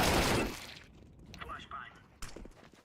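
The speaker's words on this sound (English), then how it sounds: "Grenade out. Throwing a grenade." A grenade toss in Counter-Strike: a sharp burst at the start, then faint in-game clatter and scattered effects while a voice speaks over it.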